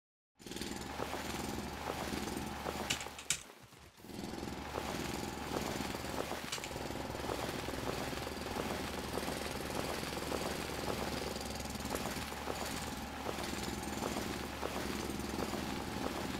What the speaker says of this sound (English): So I need to do a bit more drilling.